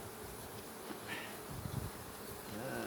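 A soft, continuous buzz of many honeybees swarming close around a hive frame, low and droning with slight swells, no voices.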